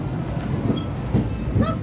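The Disneyland Railroad train rolls along its track nearby, with a steady, rhythmic clickety-clack of wheels over rail joints and a faint squeal.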